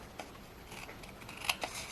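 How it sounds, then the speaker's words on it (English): Scissors trim the edges of a paper envelope in a few quick, close snips, faint and crisp against a quiet room. "I'm just going to take my scissors and run that right along"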